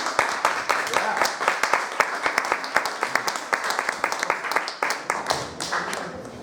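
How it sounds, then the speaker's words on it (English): Audience applause at a poetry open mic after a reading, a dense run of hand claps that holds steady throughout, moderately close and with no one talking over it. "Can we give him another round of applause?"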